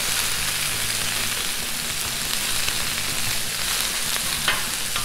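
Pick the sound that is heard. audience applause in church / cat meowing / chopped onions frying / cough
chopped onions frying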